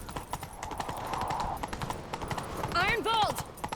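Rhythmic hoofbeats clop along at a steady gallop in The Witcher 3: Wild Hunt while voices speak over them, and the horse whinnies near the end.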